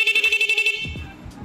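An aftermarket rapid car horn beeps in quick, rapid pulses, about a dozen short honks in under a second, followed by soft handling noise.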